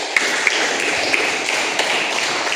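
A classroom of students claps hands together in a dense, steady patter of many overlapping claps, close and continuous throughout with a few sharper individual slaps standing out.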